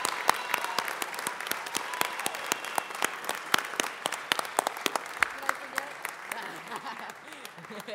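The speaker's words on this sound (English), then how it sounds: "let's give them a real round of applause" In a Los Angeles City Council chamber, a crowd applauds the voice cast of Coco with sustained, dense clapping and scattered sharp claps, while voices murmur faintly underneath.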